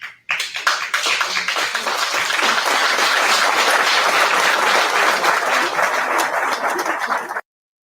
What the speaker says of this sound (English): Yes, that was a lot of claps.